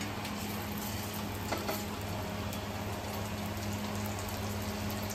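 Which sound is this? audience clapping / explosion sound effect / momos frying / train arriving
momos frying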